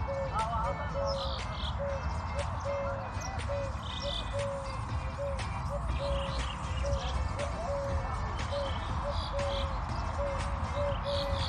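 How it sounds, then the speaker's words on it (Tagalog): Assorted birds call and chirp in a park, with a repeating mid-pitched call and scattered higher tweets over steady outdoor background noise, with no one talking. "marinig mo yung mga iba't ibang huni ng ibon"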